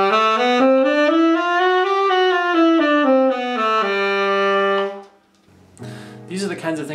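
A melodic instrument plays a bebop scale in a quick, smooth run up and back down, ending on a held note, followed by a brief softer phrase.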